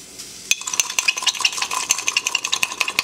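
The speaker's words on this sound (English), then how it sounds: "as you can hear in the background, I am still making foam" Coffee is whipped and aerated into foam, probably in a bowl, with rapid, rhythmic clinking and scraping strokes that keep up a busy, close, steady pattern throughout.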